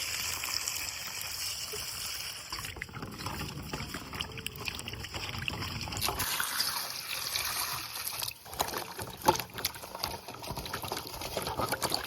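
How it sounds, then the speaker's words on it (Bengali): Water lily roots (shaluk) being washed by hand in a pot of water, giving continuous sloshing and splashing with scattered clinks, close and steady. "শালকগুলা কিন্তু এইভাবে তিন চারবার জল পাল্টায় পাল্টায় ভালো করে পরিষ্কার করে একদম ধুয়ে নিয়ে"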